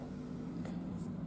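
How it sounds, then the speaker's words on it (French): A Rega moving-magnet phono cartridge sitting open loop on a workbench, wired to an amplifier, makes a faint, steady low mains hum under a constant soft hiss. "Voici le bruit de cette cellule en boucle ouverte."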